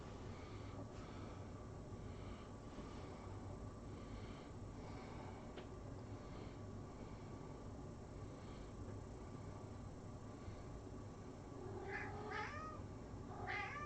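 A cat meows in a room during a relaxed livestream, the calls coming late and fairly clear over a steady background hum and faint household noise.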